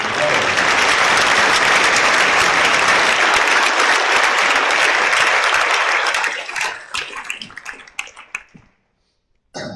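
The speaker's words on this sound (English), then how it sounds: "Let's give another round of applause for the band and the choir." Loud, sustained clapping from a crowd at a high school Veterans' Day assembly that thins out and fades to a few scattered claps near the end.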